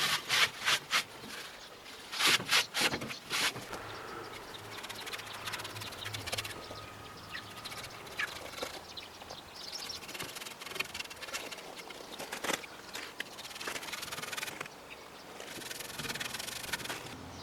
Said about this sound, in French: on va passer un dégraissant métaux.